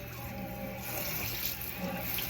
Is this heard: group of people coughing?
no